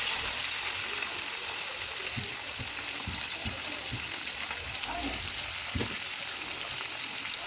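Onions, garlic and urad dal sautéing in a pan make a steady sizzling hiss with soft stirring scrapes and occasional clinks throughout.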